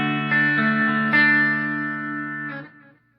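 Clean electric guitar through a Boss DS-2 Turbo Distortion pedal with the distortion switched off, a few chords strummed and left ringing, then fading to silence with no talking.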